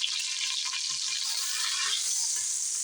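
A pork shoulder roast sears in a hot pan after being flipped, giving a steady, close, bright sizzle that holds evenly throughout with no talking.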